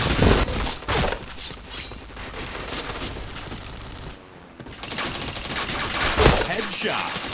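Gunfire in the video game Point Blank: dense, loud bursts of rapid automatic shots with a short silent gap midway, then sustained firing and a few heavier blasts.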